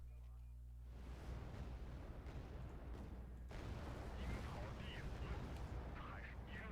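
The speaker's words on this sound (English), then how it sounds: "Artillery." Artillery fire in the WarGame Red Dragon strategy game, a continuous rumbling barrage of low booms and blasts that swells louder in the second half, with talk over it.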